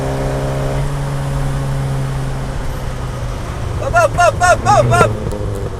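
Alfa Romeo GT Junior engine holds a steady drone, then a burst of sharp, rising revs near the end, screaming and popping, close and loud with no talk over it.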